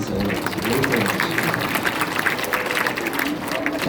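Church education meeting audience applauding in thanks for the pastor's worship singing, a steady dense clapping throughout while a voice speaks over it.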